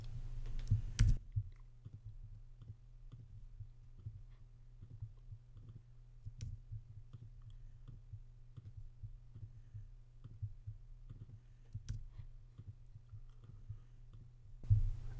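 Computer mouse clicks repeat at an irregular pace during software use, sharp and close, over a low steady hum.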